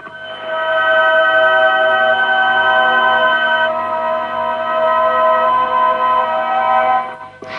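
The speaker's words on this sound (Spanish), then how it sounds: "eso es el sonido de estas figuras pasadas al papel de la partitura" Odd sustained electronic tones from crop circle shapes transcribed into a musical score, a held chord of bright ringing pitches that drops some notes midway and continues steadily, no voices.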